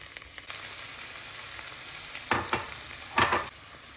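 Crushed onion, green chili and garlic frying in coconut oil in a pan, a steady sizzle with two louder bursts of stirring or spattering partway through.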